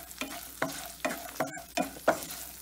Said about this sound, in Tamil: முந்திரி அது நல்லா இந்த மாதிரி நல்லா வதக்கி விட்டுருங்க எண்ணெயில்